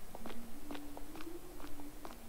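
Footsteps in the Roblox horror game The Mimic, set in a sewer, sound as a run of about ten quick, evenly paced steps with a faint tonal hum beneath them.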